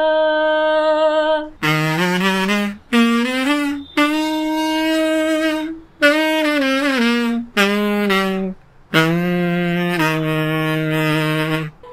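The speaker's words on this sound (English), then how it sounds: "Vibration is an effect or a style you want to add it on your kazoo playing so that you can play it like a saxophone." A kazoo is played in a saxophone-like style with vibrato, giving a series of buzzy, reedy sustained notes and short phrases with wavering pitch, loud and close, broken by brief pauses, with no speech.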